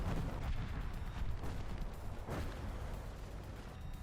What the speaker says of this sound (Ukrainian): Мені накидали цілу купу арти